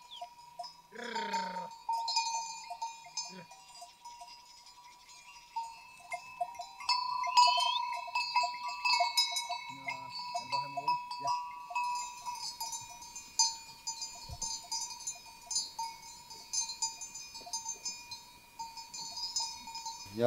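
Cowbells on a flock of sheep heading out to pasture clank and tinkle in scattered, ringing strokes, with occasional bleats, one loud and close early on, against an otherwise quiet outdoor setting.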